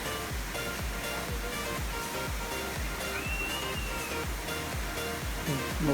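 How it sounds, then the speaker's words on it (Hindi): A waterfall at Kania Bey in Karbi Anglong, Assam, heard from below as a steady, loud, broad rush of falling water that fills the whole clip, with soft low thumps underneath. "तो ये है वाटरफॉल के जो क्लिप मैंने नीचे से लिया।"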